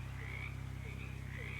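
Frog croaking in the video game Shadows Over Loathing, a steady low droning croak that pulses continuously throughout with faint chirpy calls above, no talking.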